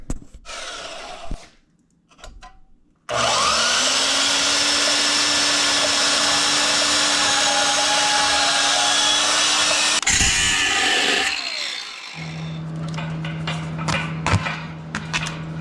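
A portable band saw cuts through steel exhaust pipe during an exhaust install on an LS-swapped Ford LTD, a loud steady whine with a tonal hum lasting about seven seconds, then tapering off into scattered clanks and handling noises.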